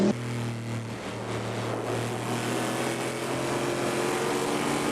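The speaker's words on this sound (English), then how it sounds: "That's the sound of an aluminum block titanium valve V8 pushed to the limit" An aluminum-block, titanium-valve V8 race car engine roars at full power at Road America, a loud, continuous, high-revving drone with no voices over it.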